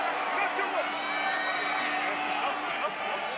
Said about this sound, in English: listen to this crowd providing the soundtrack for this Belgium attack